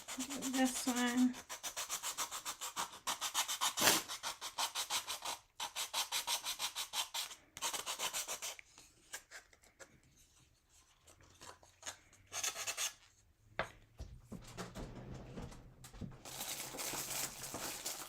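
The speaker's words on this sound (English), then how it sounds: "So I'm just sanding" Hand sanding a Dollar Tree frame, rhythmic close scratchy strokes of sandpaper rubbing in bursts with short pauses, quieter and more sporadic toward the end, no talk.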